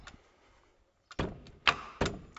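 Wooden summerhouse doors sliding and knocking in their frame, a few sharp bumps and scraping thuds as they stick, close up with quiet pauses between.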